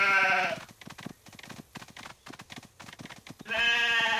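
Bleating sheep in a Paw Patrol video game: a clear sheep call opens, a stretch of rapid clicky game and footstep sounds follows, then another long bleat closes it.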